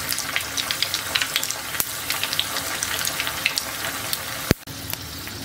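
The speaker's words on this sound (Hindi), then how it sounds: "मीडियम टू लो फ्लेम पे हमें डीप फ्राई करना है।" A wheat flour and potato snack deep-fries in oil over a medium-to-low flame, giving a steady crackling sizzle with scattered pops, heard up close with no talking.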